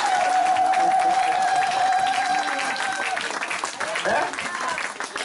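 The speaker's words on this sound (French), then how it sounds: "donnons une acclamation au Seigneur." A church congregation claps and cheers in acclamation during a pastor's sermon, a sustained wash of many hands with a held vocal tone early on and voices mixed in.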